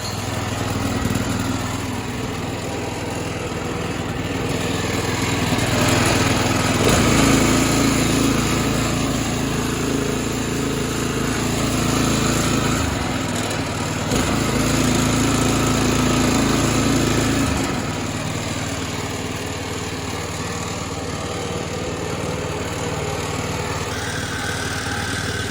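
A small lawn mower engine fitted to a rat rod mower is pull-started, then chugs and runs steadily at close range, its revs rising and falling a few times with no talking.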